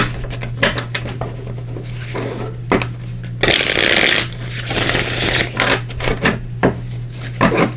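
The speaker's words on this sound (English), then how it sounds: "We're also going to pull cards here from the Tarot of Dragons." Tarot of Dragons cards are shuffled and drawn, giving repeated soft papery riffles, slides and flicks, with a denser burst of shuffling in the middle, close and clear against a steady low hum and no talk.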